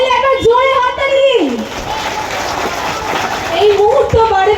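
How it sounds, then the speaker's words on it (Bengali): A crowd at an inauguration of a diagnostic centre claps loudly together, a dense burst of applause in the middle, with a voice speaking just before and after it. "সকল মিলে একবার জোরে হাততালি।"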